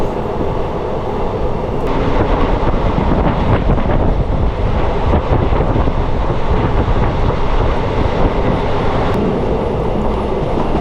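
Train running along a curve, heard from inside a coach in the middle of the train: a loud, continuous low rumble and roar with faint clickety-clack, wind buffeting the microphone throughout, no talking.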